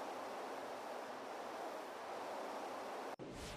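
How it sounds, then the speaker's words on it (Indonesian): A flowing stream in ARK: Survival Evolved, a faint, steady rushing wash of water without voices, broken by a brief dropout near the end. "Anak sungai ni dia mengalir ke dalam ni."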